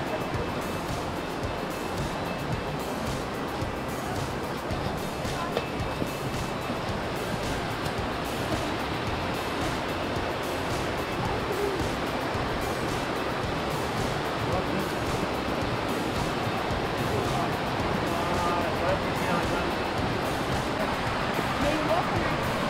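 Water rushes at the Salto do Tigre waterfall in Matinhos, Paraná, as a loud, steady roar of broadband noise. It holds constant throughout with a little wind buffeting, and voices can be heard talking over it.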